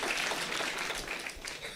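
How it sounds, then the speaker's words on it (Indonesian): Audience applause at a diaspora gathering, a steady wash of clapping hands that fills the short stretch at even, moderate loudness. "Tepuk tangan buat Ibu Konjen."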